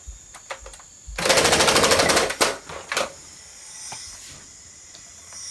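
Fully automatic CO2-powered Nerf Magstrike blaster firing one dense burst of about a second, followed by a few short separate pops and a lingering hiss from the gas system.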